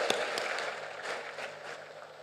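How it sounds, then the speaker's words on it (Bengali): A crowd gives a special round of applause for a cricket team at a Women's Day awards gathering, steady moderate clapping from many hands with a few sharper claps near the start, no voices heard. "ক্রিকেট টিম তাদের জন্য একটা স্পেশাল হাততালি দিতে হয় দেখো"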